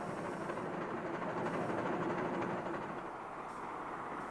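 Big Boy locomotive hauling a long freight train, a steady rumbling roar with broadband rolling noise that swells slightly and then eases, moderately faint and with no voices.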